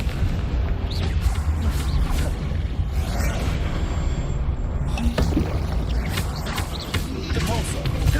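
Blasts of the Confringo fire spell burst in Hogwarts Legacy combat amid a busy mix of other spell effects, booming low explosions and crackles layered over continuous game noise.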